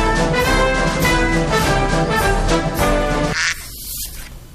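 A cartoon duck quacks repeatedly in a quick, loud run over a musical background on a television news segment, ending abruptly as the music drops away.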